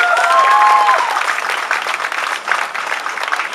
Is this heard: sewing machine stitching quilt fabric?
no